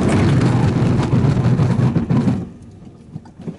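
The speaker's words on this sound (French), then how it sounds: "Allez, on va se faire un petit freinage." A Hyundai i20 Coupe brakes hard from 90 km/h on a badly degraded road: loud, steady road and engine roar close by, cutting off sharply to a quiet hush as the car slows.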